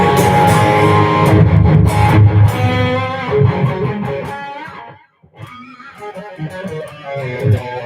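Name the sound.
electric guitar played through a Kemper amp profiler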